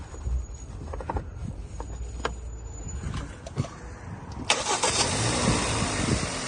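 A 2013 Hyundai ix35 engine cranks and catches, then settles into a steady idle that continues to the end, fairly close and moderately loud.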